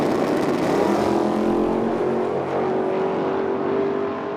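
Drag race between a Mustang and a Capri at a Medicine Hat, Alberta drag strip: loud roaring race engines sweeping past close by, revs rising and falling as the cars blast down the track, no voices.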